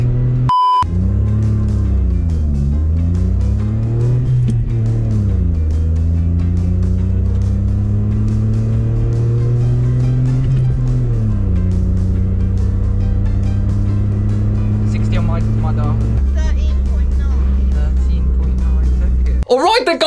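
Small car engine revving through a 0 to 60 acceleration run, loud and close from inside the car, rising and shifting through gears in repeated climbs, with a beep at the start and speech over the engine.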